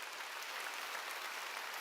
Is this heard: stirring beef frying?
no